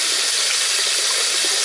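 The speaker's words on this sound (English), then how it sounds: "I'm running it on the hot water." Hot water running steadily from a faucet with a Symmons spindle, a continuous close hiss and splash filling the whole short stretch with no pauses.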